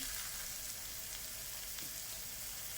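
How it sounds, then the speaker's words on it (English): Minced meat fries in a pan with a steady, crackling sizzle, quiet and continuous, with no talking. "There's the mince coming into the pan."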